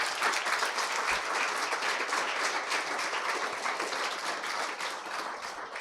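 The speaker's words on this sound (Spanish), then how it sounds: "Denle un aplauso al que vive y reina por los siglos de los siglos" Church congregation applauding during a Spanish-language worship service, a steady, dense wash of many hands clapping that fills the room at even loudness throughout, with no talk over it.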